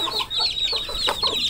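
Chickens cluck and chatter close by among young chicks, a busy run of short overlapping calls with no talk.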